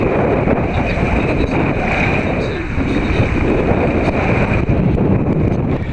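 Strong wind buffeting the microphone in a constant roar at a camp on a Florida key, with water and waves in the background.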